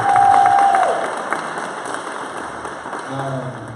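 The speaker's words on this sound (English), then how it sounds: "Let's give Libby a round of applause again." A small audience gives a short round of applause with some cheering. The clapping is loudest at the start and fades quickly under a speaker's voice.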